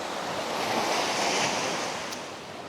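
Ocean surf at Banana Beach on Zakynthos, Greece, rolls in as a steady broad wash of breaking waves, loud and continuous with a slight swell and fade, with some wind buffeting the microphone and no talk.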